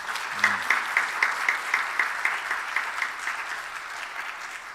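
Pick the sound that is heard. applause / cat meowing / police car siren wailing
applause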